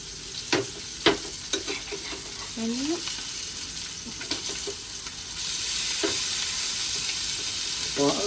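Fish caught from a flooded paddy field frying in a pan: a steady sizzle that swells louder partway through, with occasional utensil taps and scrapes near the start and a brief voice sound.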